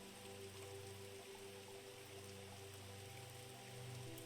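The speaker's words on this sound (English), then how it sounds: "You hear the sound of the rain on your makeshift tent." Rain falling on a makeshift tent, a soft, steady patter of drops that continues evenly throughout, quiet, with faint low tonal hum beneath and no talking.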